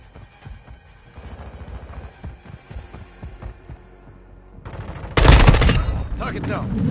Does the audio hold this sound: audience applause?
no